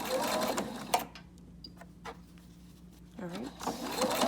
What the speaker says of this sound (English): you wanna go forward a few stitches and then back a few stitches to lock those in